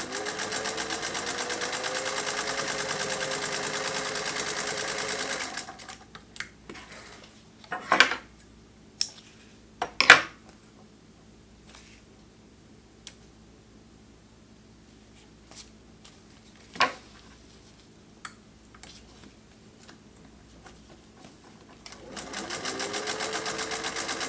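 A green Singer 201-2 sewing machine whirs in short bursts at the start and end, with quiet clinks, taps and handling noises in between as the tension is adjusted.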